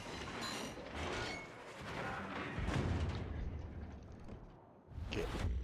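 Ship artillery fire in World of Warships, deep booming salvos rolling one after another, with a heavy thud near the end, fairly faint overall.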